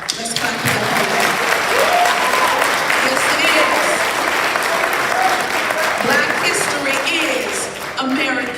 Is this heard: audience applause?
yes